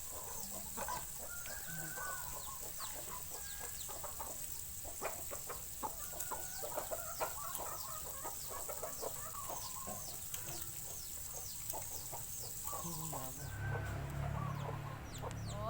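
Chickens cluck repeatedly nearby, a busy stream of short clucks and squawks over a faint background hiss, with a low rumble near the end.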